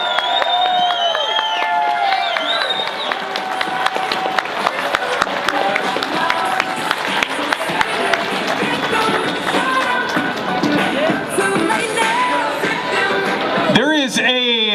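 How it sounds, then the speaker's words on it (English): Crowd applause at an outdoor speaking event at the Vancouver Art Gallery: sustained dense clapping and cheering from many people for roughly fourteen seconds, loud and steady, fading with a voice at the end. "another round of applause for Derek Sloan."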